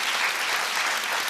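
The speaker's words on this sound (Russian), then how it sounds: "Мы аплодисментами приветствуем этих людей." Studio audience on a Russian talk show bursts into sustained applause, many hands clapping in a thick, even roar with no voices over it.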